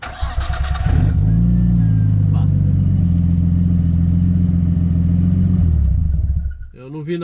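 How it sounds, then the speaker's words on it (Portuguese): A Nissan Skyline R34 GT-T cranks and fires up, its engine settling into a loud, steady rumbling idle close by before the revs briefly drop and pick up again near the end. "liga o carro, liga o carro e vira o volante all the way"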